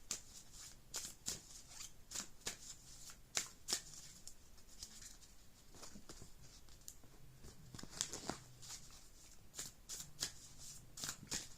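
A Moonology Oracle card deck being shuffled by hand: quick, close riffles and papery slaps repeating in irregular bursts, quiet and alone without speech.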